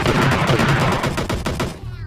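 Rapid bursts of automatic gunfire from an enemy shooting at a teammate in PUBG Lite, a loud, dense string of shots that continues for about two seconds before dropping off abruptly.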